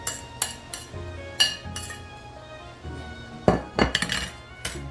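Metal utensils clinking and scraping against a pan while pancit is stirred, a series of sharp irregular clinks, fairly close and quiet, with no talking.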